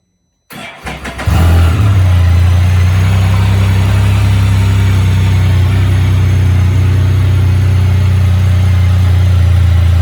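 After a brief silence a Can-Am Spyder F3-S three-wheeled motorcycle engine cranks, catches and settles into a loud, steady idle with a deep rumble close by.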